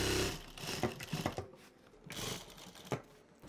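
A sewing machine stitches the side seam of a denim handbag in short, uneven runs of quick mechanical rattling, close and fairly quiet, with brief pauses and fabric handling between bursts.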